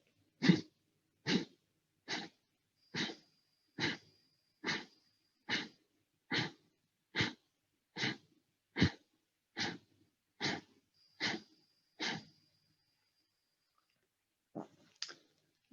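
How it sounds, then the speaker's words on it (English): A steady run of about fifteen short, forceful nasal exhalations, evenly paced like a pumping breathing practice, close and clear against silence, followed by a couple of softer breaths at the end. "small breath in, breathing out through the nose with a little active exhalation"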